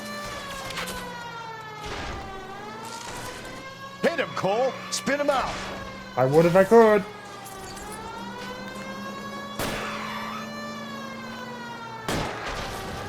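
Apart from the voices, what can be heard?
police car siren in video game L.A. Noire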